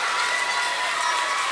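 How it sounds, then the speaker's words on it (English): Students and families applaud school award winners at a Student of the Month assembly, with a dense, even wash of clapping that holds steady at full level for the whole moment. "let's have one more round of applause for our Dojo, our Positivity Project members"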